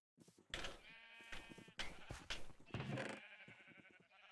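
Sheep in the Minecraft video game bleat several times in quick succession, loud and close, the wavering cries overlapping in short bursts with no talk.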